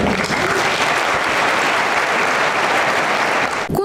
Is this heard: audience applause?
yes